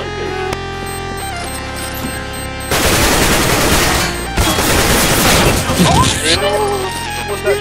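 Video game gunfire erupts in loud, dense bursts of rapid shots and booms after a quieter opening, with voices talking over the fire.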